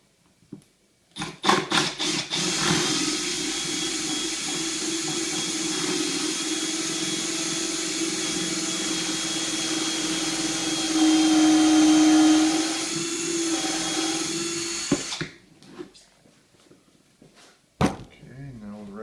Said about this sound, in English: As this hickory is hardwood, let the bit do the work.